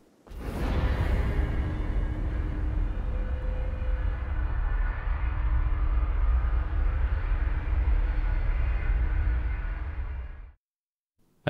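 A Gravship lifts off in Rimworld Odyssey, a loud sustained rumbling roar with a broad whoosh that holds steady for about ten seconds and then cuts off abruptly into near silence.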